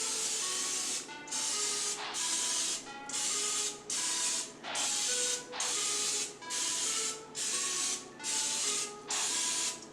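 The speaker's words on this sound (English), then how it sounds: "I'm just going to take this olive oil spray here and" A series of short hissing sprays from an olive oil spray can repeat in quick bursts, about ten in a row with brief pauses between, close and clear.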